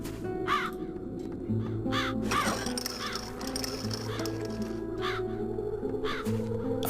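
Several crows caw in repeated harsh bursts over a steady low ambient drone and soft background tones in The Dark Eye: Chains of Satinav, with no talking.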